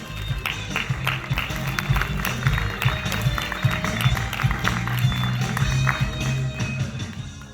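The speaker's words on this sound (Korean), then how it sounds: "뜨거운 박수로 축하해 주시기 바라겠습니다." An audience at the 2022 Yeosu national magic competition award ceremony applauds continuously, a dense roomful of clapping hands with scattered crowd noise throughout the clip.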